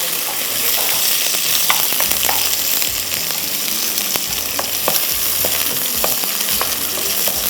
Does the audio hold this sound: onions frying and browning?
yes